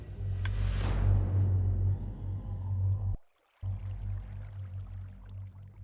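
A Minecraft custom difficulty sound, a lever click layered with a note block sample, gives a bright hit that decays into a low sustained hum, cuts out briefly near the end, then resumes more faintly.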